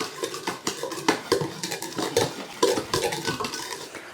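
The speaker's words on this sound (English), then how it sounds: "And you just want to whisk until you get the cinnamon and other spices mixed evenly throughout." A whisk scrapes and clinks quickly against a bowl, stirring cinnamon, clove and other spices into apple fritter batter, a steady close-up run of rhythmic metallic taps with no talking.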